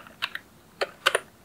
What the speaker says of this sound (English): And then you can just type over here,